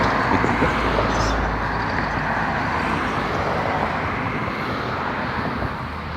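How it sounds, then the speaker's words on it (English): Road traffic passes near a yard as a steady, fairly loud broadband roar of vehicles with no pauses, swelling slightly at the start and staying constant throughout. "as you can tell from the traffic sounds, this is not quite as peaceful a place as the backyard"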